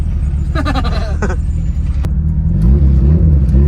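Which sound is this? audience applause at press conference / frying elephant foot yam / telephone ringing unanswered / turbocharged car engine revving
turbocharged car engine revving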